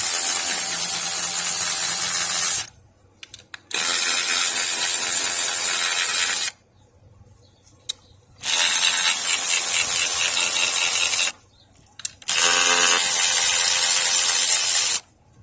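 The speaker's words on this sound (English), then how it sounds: "I've already started by taking out the few of the 8mm screws that I have in." Screws being removed from a GY6 scooter with a loud power tool, in three long steady whirring bursts separated by short pauses, close and without talking.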